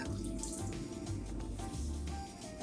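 Almond milk is poured into a container for blended overnight oats, making a soft, quiet, trickling liquid stream with faint gurgles throughout.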